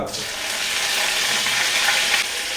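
Curry leaves crackle and sizzle in hot oil with urad dal for a cabbage thoran, a steady bright frying hiss that flares sharply at the start and continues close and loud.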